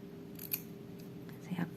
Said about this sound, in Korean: 그 다음에 가위로 이 끝에를 살짝 철사에 있는 털을 잘라서